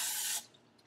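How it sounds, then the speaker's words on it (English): A can of cooking oil sprays in one short hiss lasting under half a second, then cuts off to quiet kitchen background. "Let's just use some spray oil."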